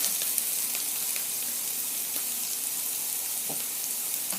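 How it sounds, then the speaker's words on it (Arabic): Onions and carrots sizzle steadily in a pan for stir-fried Cantonese chicken, with an even frying hiss and a few clinks of stirring throughout. "ياخد تشويحة برضو، الاول البصل بعدين الجزر"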